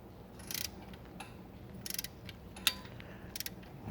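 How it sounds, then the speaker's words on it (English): Torque wrench tightening an idler pulley bolt on a Mercedes W220 or W210, giving faint, close ratcheting clicks in a few short bursts over a quiet hum. "And then with a torque wrench, torque it to"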